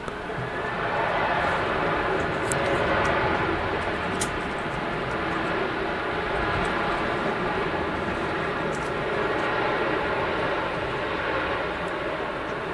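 A GetJet Airlines jet takes off at Manchester Airport, its engines making a steady, loud, broadband roar that holds for the whole stretch with no pauses.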